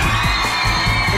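A game show studio crowd whooping and cheering in loud, steady waves, with children shouting among the noise, heard without talk.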